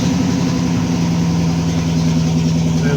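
An MG Magnette V8 coupe engine with its carburetors set to choke runs close and loud in a steady, throbbing idle.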